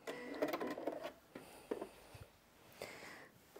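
A Janome 5060 QDC sewing machine runs a decorative stitch pattern in short, quiet bursts, pausing between runs, with a few light mechanical clicks.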